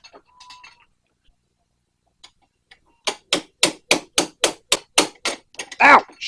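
A hammer strikes a punch about a dozen times in a fast, even rhythm to drive out a bearing, loud and close, after a quiet stretch with a few faint clinks.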